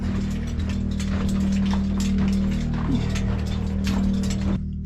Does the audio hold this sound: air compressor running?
yes